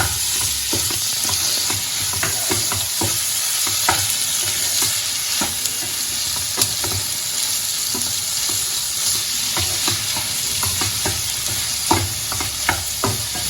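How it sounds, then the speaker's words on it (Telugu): Chopped tomatoes sizzle steadily in a hot pan for an egg bhurji, with frequent scraping and clacking stirs of a spoon giving an irregular rhythm, close and moderately loud with no talk. "ఇప్పుడు సన్నగా తరిగి పెట్టుకున్న ఈ టమాటా ముక్కలను కూడా వేసేసుకుని వేపుకోవాలండి."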